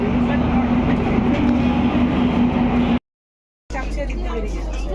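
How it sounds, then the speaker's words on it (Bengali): Passenger train pulling out of platform five at New Jalpaiguri station, a steady close rumble with a humming drone, broken by a brief gap of silence before the rolling noise resumes. "আমাদের ট্রেন নিউ জলপাইগুড়ি স্টেশনের পাঁচ নম্বর প্ল্যাটফর্ম থেকে বেরিয়ে যাচ্ছে রাইট টাইমে ট্রেন ছেড়ে দিয়েছে"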